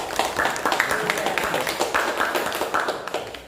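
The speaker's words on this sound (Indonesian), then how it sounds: "Tepuk tangan semua" A classroom of students claps their hands together in a rapid, uneven patter that carries steadily for a few seconds close by, then thins toward the end.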